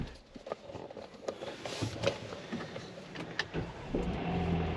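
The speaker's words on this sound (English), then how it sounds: "It rattles real bad. When it first started" A 2017 Hyundai Santa Fe with a low-power fault cranks and catches, its engine rattling with irregular knocks and clatter at close range, loud and uneven throughout, with no voices.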